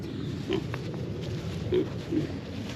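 Pigs on a farm let out a few low, short grunts, about three spaced snorts over a steady background murmur, fairly close and moderately loud.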